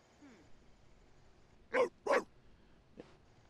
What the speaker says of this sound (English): He's barking like